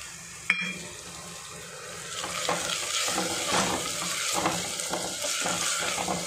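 Tomato pieces sautéing with ginger garlic paste in a pan, a steady soft sizzle with intermittent stirring and scraping scrapes, and a sharp clink near the start.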